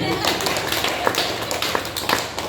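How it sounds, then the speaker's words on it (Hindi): Audience clapping at a spiritual gathering, a continuous patter of many hands with scattered sharper claps standing out, heard alongside a speaking voice. "ताली बजाओ"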